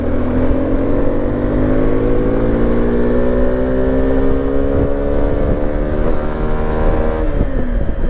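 A Suzuki V-Strom 250 motorcycle pulls steadily in third gear, its engine drone loud and continuous with rising tonal whine as speed builds, then slight dips near the end.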